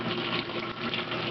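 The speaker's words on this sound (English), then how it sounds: "There's still cold water being let through." Water rushes steadily into a Hotpoint washing machine during its fill, a short, continuous close-up gush at moderate level.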